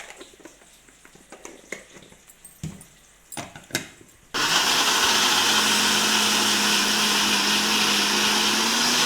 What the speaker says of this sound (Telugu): వీటిని మిక్సీ పట్టుకుందాం.